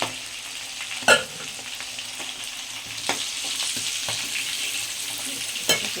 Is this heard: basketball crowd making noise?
no